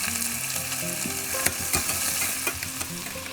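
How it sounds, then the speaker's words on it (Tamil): Onions sautéing in hot oil for chicken biryani, cooked until golden, a loud dense frying hiss with a few stirring scrapes, close up and without any voices. "இப்போது வெங்காயத்தை சேர்த்து அது பொன்னிறம் ஆகிற வரைக்கும் வதக்கி விட்டுக்கலாம்."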